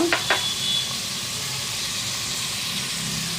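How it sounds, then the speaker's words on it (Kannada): Masala vegetable saagu ingredients such as knol-khol, chayote and potato frying on a low flame, a steady close hiss and sizzle after a couple of brief clinks at the start, alone without talk. "ಲೋ ಫ್ಲೇಮಲ್ಲೇ ಹಸಿ ಸ್ಮೆಲ್ ಹೋಗುವವರೆಗೂ ಲೋ ಫ್ಲೇಮಲ್ಲೇ ಮಾಡ್ಕೊಳ್ಳೋಣ, ಹುರ್ಕೊಳ್ಳೋಣ."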